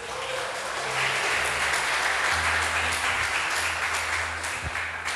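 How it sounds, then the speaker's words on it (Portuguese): A church congregation applauds in a steady, sustained burst of many hands clapping, filling the room, with a low hum from instruments or amplification underneath. "Dê um aplauso ao Senhor Jesus."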